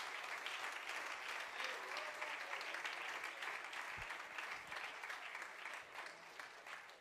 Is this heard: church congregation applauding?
yes